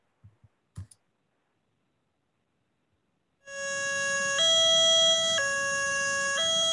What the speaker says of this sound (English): So I'm going to play this for you right now so you can hear that high-low siren